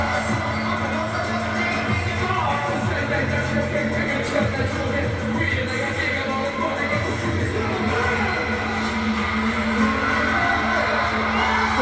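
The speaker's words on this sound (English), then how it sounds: "Crowd hyping." A packed arena crowd at a concert in London roars and cheers continuously, loud and close, with steady whooping and a pounding bass beat throbbing underneath.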